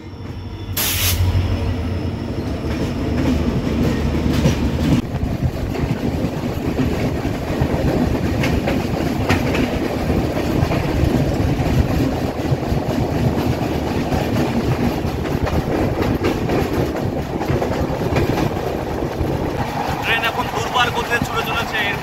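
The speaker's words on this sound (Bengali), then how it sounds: "সামনে এটা একটা আসে গুডস ক্যারিয়ার ট্রেন" A goods carrier train passes close alongside a moving Kolkata-Guwahati Garib Rath Express, giving a loud, continuous rumble with rhythmic clickety-clack of wheels and occasional squeals, and a voice talks over it.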